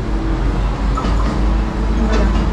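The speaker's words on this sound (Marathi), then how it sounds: "ट्रेन आली, ट्रेन." A train rumbles past a balcony, heavy low rolling noise with faint rhythmic clatter of wheels, steady and fairly loud throughout.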